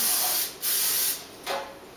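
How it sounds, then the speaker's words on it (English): Cooking spray hisses from an aerosol can onto metal or glass baking pans in a kitchen, coming in three close, loud bursts with brief gaps between them. "Now we're going to grease our pans."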